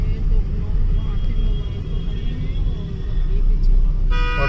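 Heavy road traffic rumbles at a busy, decorated intersection, a loud steady roar of car engines close by with a brief horn toot at the end.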